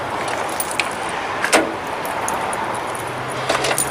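Door locks on a Ford van being worked with a key fob: a couple of sharp mechanical clicks stand out over a faint outdoor hum, alongside a light jangle of keys.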